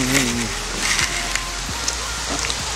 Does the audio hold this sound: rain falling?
yes